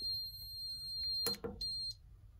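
An Apollo XP95 fire alarm system sounds during a house system test, giving short high electronic beeps and pulses over a quiet indoor background, with a brief louder burst in the middle.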